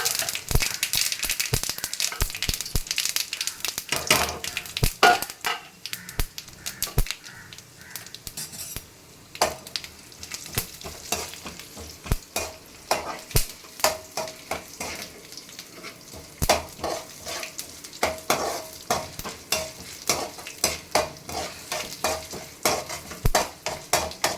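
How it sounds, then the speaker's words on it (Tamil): Chana dal and cumin fry in hot oil for pirandai thuvaiyal while a spoon stirs and scrapes the pan, with frequent sharp metallic clinks over a soft sizzle, close up. "எண்ணெயை ஊற்றிட்டு பிறகு இந்த தட்டை இருக்கிற க கடலைப்பருப்பு சீரகம் எல்லாத்தையும் போட்டு நல்லா நம்ம வதக்கணும்"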